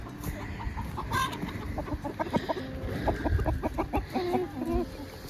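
Chickens cluck and chatter outdoors on a small farm, with a run of close, repeated clucks and a brief crow-like call rising over faint background noise.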